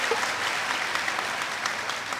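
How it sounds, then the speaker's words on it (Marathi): Audience applause at a humorous kirtan performance, a brief steady wash of crowd clapping, moderately loud throughout. "टाळी वाजवा."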